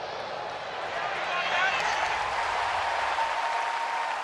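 Crowd of about 32,000 at a baseball stadium cheering, a broad continuous roar swelling slightly midway, loud and sustained without speech.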